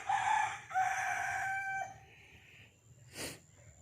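Chickens cluck loudly up close on a poultry farm, followed by a short, fainter crow from a rooster, with quiet background noise in between.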